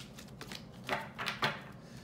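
Tarot cards shuffled by hand, heard as a few soft riffling bursts, the two clearest close together near the end, quiet and close with no talking.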